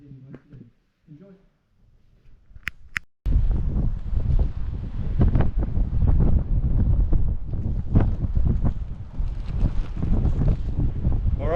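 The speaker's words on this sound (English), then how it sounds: "It's a bit windy" Wind gusts across an open beach, buffeting the microphone with a loud, continuous rumble. It bursts in after a few quiet seconds of faint movement and stays strong and steady to the end.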